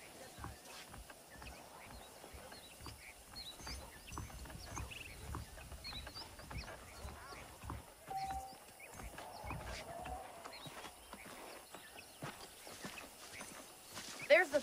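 Horse hooves clip-clop steadily in the video game Red Dead Redemption, a quiet, even walking rhythm over a light outdoor ambience with a few birds and a brief whinny.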